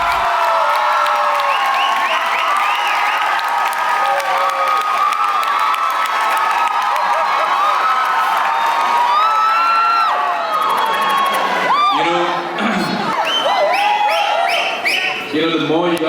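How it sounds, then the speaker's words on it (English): Film festival crowd in a theatre whistles, cheers and screams loudly, with sharp whistles rising over a continuous roar of voices and some scattered clapping. "the more you guys are whistling and screaming, the more nervous I'm getting."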